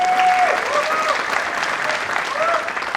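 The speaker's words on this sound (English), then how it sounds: "I also want to make an applause for the BSides Ahmedabad team." Keynote audience at a BSides Ahmedabad security conference applauding, a dense steady wash of clapping lasting the whole moment, with faint voices mixed in.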